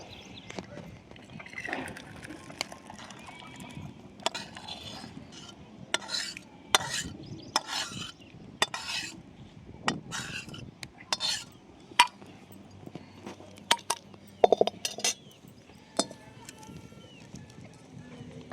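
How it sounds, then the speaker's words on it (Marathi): Cooked urad dal ghute scooped out of a pot into a vessel, a series of irregular clacks and scrapes of a spoon against metal, with someone talking over it in places. "खाली उतरून एका भांड्यात काढून घेते आता"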